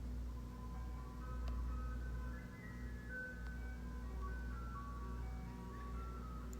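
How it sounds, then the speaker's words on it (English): An ice cream truck outside an open window plays a faint, tinkling jingle over a steady low engine hum, distant and continuous with no talking. "Apologies if you can hear the ice cream truck in the background."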